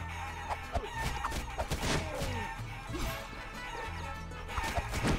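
Cartoonish chickens cluck and squawk in the Guacamelee video game, several short bursts scattered over game music and impact effects, fairly loud and busy throughout.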